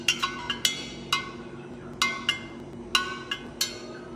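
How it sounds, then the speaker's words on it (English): A spoon stirring citric acid and sodium citrate into distilled water in a glass mason jar, giving a series of bright, irregular clinks against the glass over a low steady hum. "I stirred it around until it all dissolved."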